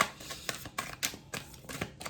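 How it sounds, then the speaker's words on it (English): Tarot cards shuffled by hand, a few quick soft riffling snaps spaced about a quarter second apart, close and faint. "A little bit more shuffling on camera."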